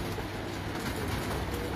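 Pigeons in a large loft colony coo softly in a low, continuous murmur, heard faintly over broad background noise with no voices.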